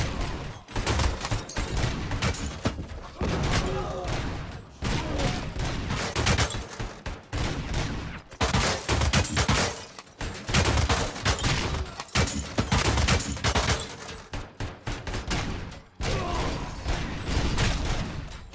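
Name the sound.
gunfire from Robocop: Rogue City video game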